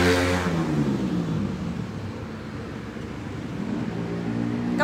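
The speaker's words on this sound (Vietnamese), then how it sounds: "Các bạn này đi xe máy các bạn nẹt vô kinh quá" Motorbikes rev and roar on a street just outside, a loud engine surge at the start that eases into a rumbling drone and swells again at the end, with no voices.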